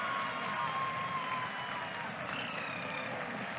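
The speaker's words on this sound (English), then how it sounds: "People are applauding." Steady applause from a watching crowd at the Chandrayaan-3 lunar landing, a continuous wash of clapping heard at a distance, with faint broadcast talk layered over it.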